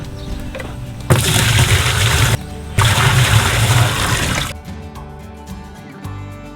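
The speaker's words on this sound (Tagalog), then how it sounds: "Okay, lagyan natin ng tubig to." Water poured into a PVC pipe hydroponics system, two loud close gushing pours separated by a brief pause, then quieter trickling and dripping as the flow stops.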